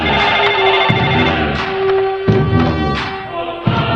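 A telephone rings in repeated electronic bursts, loud and close, each trill cut by brief gaps, with a few soft thuds between rings.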